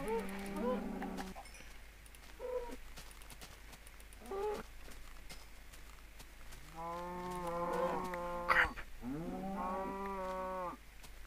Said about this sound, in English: Oh wow, you're a fat cow, aren't you?